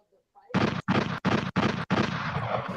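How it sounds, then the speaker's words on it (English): Gunshot sound effects boom in a rapid series of five loud, heavy blasts with short gaps, close and dominating, the last one trailing into a sustained roar. "Gunshots, gunshots"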